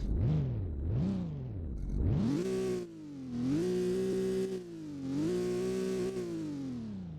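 A custom car engine in Roblox Southwest Florida whines through a few quick rising revs, then settles into a loud, steady hum that swells and dips with further revving, close and alone.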